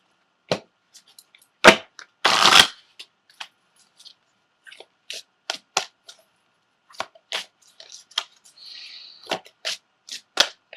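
Tarot cards are shuffled and pulled from a deck: one brief riffling burst among many sharp, sparse snaps and taps of card stock, close and quiet.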